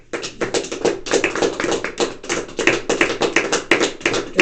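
Church congregation clapping at a Spanish-language service, a close, loud burst of many hands striking in a steady, dense patter that holds without voices for several seconds.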